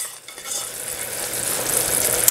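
Sugar syrup bubbling in a pot on the stove as it cooks toward the soft-ball stage, a steady soft sizzle and simmer with faint stirring clinks, continuous and close, no voices.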